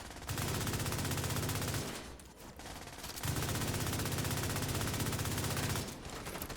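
Automatic gunfire in a video game, two long loud sustained bursts of rapid shots separated by a brief pause, with another burst starting at the end.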